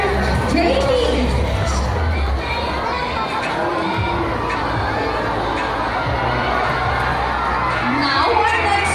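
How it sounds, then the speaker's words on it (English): A crowd of schoolchildren cheers, shouts and claps at a sea lion show in an ocean park, a loud, steady din of voices throughout. "Applause for Daza with trainer Jamie."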